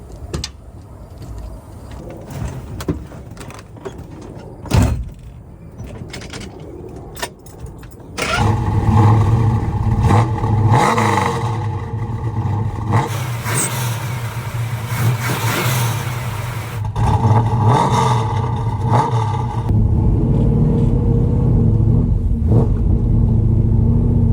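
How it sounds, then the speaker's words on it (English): A muscle car with a stroker motor rumbles at first, then revs hard at high RPM and holds a loud, sustained roar as it accelerates under load, with the engine note rising and falling. "Run this high RPM. Yeah, it's that stroker motor."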